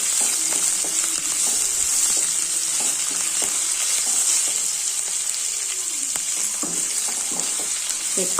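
Onions fry in hot oil in a pan while cooking chaat, a continuous bright sizzle with occasional stirring clicks and scrapes throughout, close and steady.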